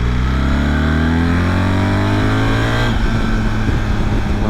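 A BMW GS 1300 Adventure motorcycle with an ASA gearbox accelerates in third gear, its engine note climbing steadily and loud before the throttle eases off, with no talk.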